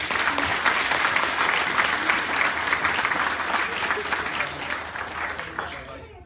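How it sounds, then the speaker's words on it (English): A crowd at an award ceremony claps steadily in dense applause that fades out near the end. "I do want to give him a round of applause"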